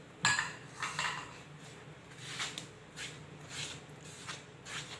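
A utensil scraping and clinking against a bowl while bread dough ingredients are stirred by hand, repeated irregular knocks at moderate volume with no talking.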